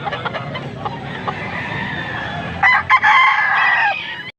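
A rooster crows loudly nearby at a market in Angeles, Pampanga, a long strained call rising over a steady murmur of background noise.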